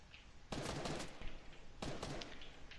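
Two bursts of automatic gunfire ring out in a Fortnite match, each a dense rapid rattle lasting about a second, fairly distant and faint, separated by a short lull.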